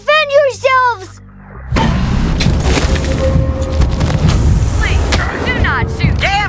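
Heavy gunfire erupts in the Wasteland 3 video game: loud, rapid overlapping shots and booms in a dense barrage, with a warbling synthetic voice talking just before and near the end.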